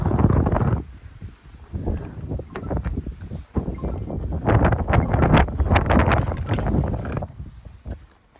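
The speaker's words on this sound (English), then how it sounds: "Let's get out of that wind" Gusty wind buffets the microphone outdoors beside an Alpine A290 GTS hatchback, with loud rumbling bursts that swell and ease in uneven waves and short quieter gaps between them.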